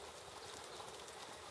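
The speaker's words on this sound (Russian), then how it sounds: "И вот пошел наконец долгожданный дождик." Steady light rain falling outdoors in April after a spell of abnormal heat, a soft continuous hiss with no clear individual drops, faint and even throughout with no voices.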